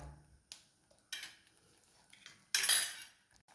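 A spoon stirs salted food in a metal cooking pot while an egg and papad dish is prepared. It makes a few sparse clinks, then a louder scraping sweep near the end, close by and with no talking.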